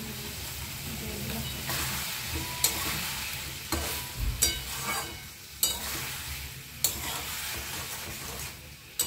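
Eggplant added to a pan while cooking a Rupchanda fish curry with bori, sizzling steadily as a spatula scrapes and stirs it in several separate strokes, heard close up with no talk.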